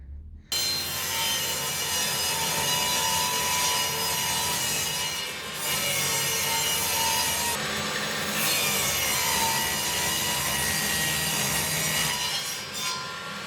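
A handsaw cuts an edge off a piece of wood for a picture frame, making a continuous rough rasping rub with steady back-and-forth strokes, close and sustained, with brief dips between passes.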